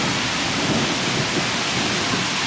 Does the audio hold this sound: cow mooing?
no